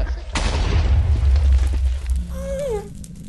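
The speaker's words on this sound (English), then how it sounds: "But I'm getting bombarded by a ghast." A ghast's fireball explosion in Minecraft lands as a loud, close, rumbling boom, then fades into a short, high, warbling wail.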